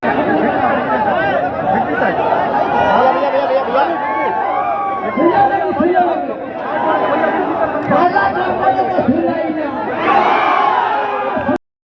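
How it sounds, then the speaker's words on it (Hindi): Large crowd of Pawan Singh supporters at a political rally, a dense roar of chatter, shouts and cheers rising and falling continuously, loud and close, with voices calling out throughout. "ये भोजपुरी के पावर स्टार पवन सिंह का हुजूम है।"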